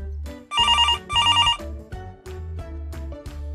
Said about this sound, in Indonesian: sebuah panggilan telepon yang berbunyi